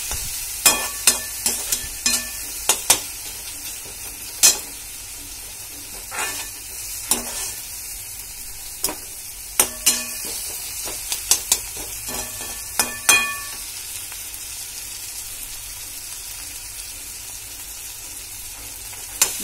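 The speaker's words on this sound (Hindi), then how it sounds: "एक तरफ मैगी बन रहा है, एक तरफ देखिए चाय बन रही है।" Maggi noodles with tomato and a pot of tea cook together on a stove: a steady low sizzle runs throughout, dotted with sharp, sporadic clicks of a utensil against the pan, and no voices.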